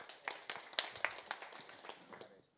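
An audience at a startup pitch event applauds, with a short, faint patter of scattered claps that gradually thins out.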